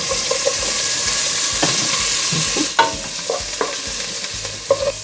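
Bacon sizzles in a pan while bean soup is prepared, a steady broadband crackle with intermittent scraping and clinking of stirring underneath.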